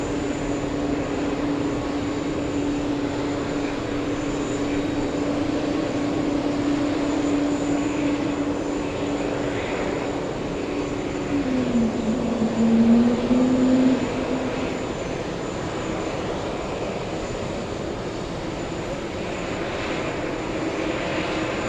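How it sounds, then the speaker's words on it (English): A Condor Airbus A330neo arriving from Frankfurt drones steadily at a distance. The low engine hum slides in pitch midway and swells slightly before settling back into a constant roar. "Flying in from Frankfurt, the gorgeous A330neo."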